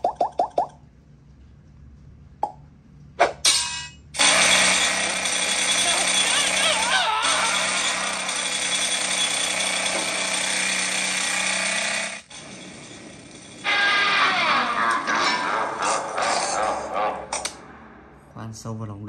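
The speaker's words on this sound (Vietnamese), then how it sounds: "Khoan sâu vào lòng đất," A drill bores deep into the ground in a mobile video game, making a loud, continuous grinding mechanical noise that runs for several seconds, breaks off, then resumes, with a few short clicks at the start.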